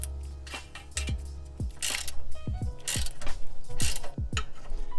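A socket ratchet tightening exhaust manifold nuts on an NB2 Miata, with close, loud bursts of rapid clicking pawl strokes, repeated in quick sets with brief metallic clanks between them.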